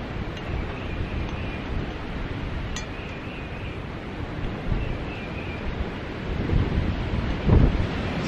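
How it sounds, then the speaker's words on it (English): Strong wind buffets the microphone outdoors with a constant low rumble and roar, and a few gusts swell louder toward the end. "it's too windy outside to really have good audio"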